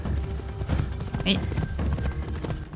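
Horse hooves clip-clopping in a quick galloping rhythm from the video game Assassin's Creed Shadows, with a voice speaking briefly in French over the hoofbeats.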